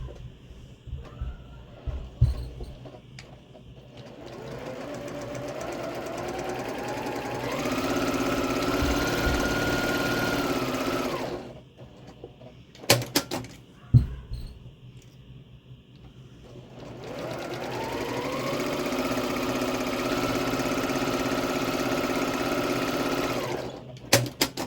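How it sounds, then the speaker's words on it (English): A sewing machine stitches quilt half-square triangles in two long steady runs of several seconds each, separated by pauses with small handling clicks. It is close and even, with no talk. "So I'm going to sew on both sides of the line 1/4 inch."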